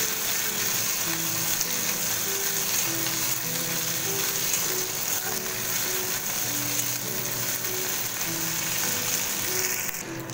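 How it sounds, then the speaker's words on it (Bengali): Ginger and green chili paste frying in oil in a pan for shahi dum aloo, a steady close sizzle throughout with soft intermittent scraping and clicking of stirring, no talk. "আদা কাঁচা গন্ধটা যাতে চলে যায় সেইভাবে একটু ভেজে নিতে হবে।"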